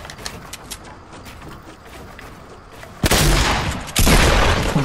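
Fortnite gunfire, with a bursty volley of shots that starts quieter and then jumps to two loud, dense blasts of fire near the end.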